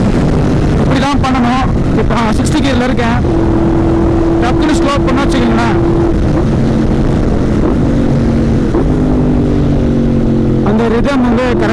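Yamaha R1 sport bike downshifting with rev matching, sharp throttle blips rising and falling in quick bursts between stretches of steady engine braking drone, wind noise throughout.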